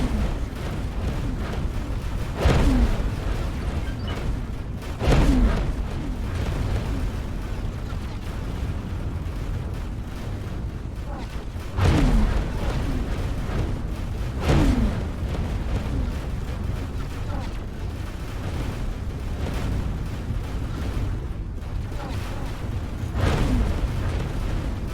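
A firework piece goes off in a series of deep booms and bursts at a few-second intervals, fairly distant, over a continuous low background rumble.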